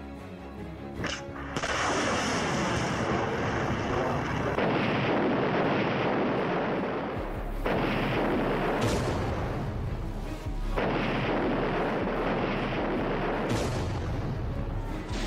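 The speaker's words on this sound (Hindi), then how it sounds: "शहर के बीचों बीच रॉकेट से हमले, हमलों से बर्बाद हुआ मारियोपोल शहर।" Heavy, rumbling wartime blasts and artillery fire amid rocket attacks in the city of Mariupol, a sustained roaring wash with wind-like noise on the microphone, surging in loud waves for fifteen seconds, no talk.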